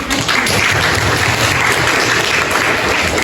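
An audience applauds in a classroom or lecture setting, a steady, dense wash of clapping that fills the whole stretch at close range without pause.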